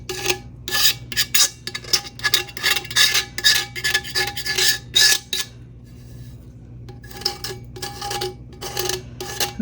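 Sharp rasping scrapes trimming the rough edge of a resin-coated custom vinyl tumbler, coming in quick repeated strokes with a short pause midway, close and fairly loud.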